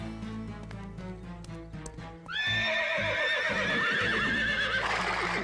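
Agitated cartoon horses neigh loudly in a long shrill whinny over clip-clopping hooves, following a stretch of background music.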